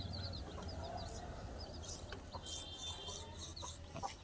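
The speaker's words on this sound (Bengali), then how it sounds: "মুরগির বাচ্চা ধরার জন্য চেষ্টা করছে" Chickens and chicks cluck and cheep in a household yard, with soft intermittent clucks and high peeping calls over a quiet background, some brushing rustles mixed in.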